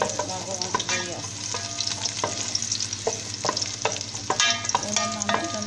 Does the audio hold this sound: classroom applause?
no